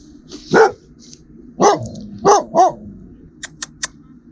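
A dog barks several times outdoors in a wildlife photography setting, four sharp, fairly close barks spaced over a few seconds, followed by a few brief, faint clicks.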